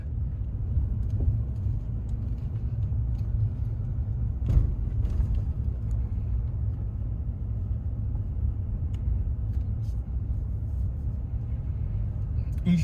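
Four-wheel camper truck rolling slowly around a campground, a steady low engine and road rumble running throughout at close range with a brief louder bump midway.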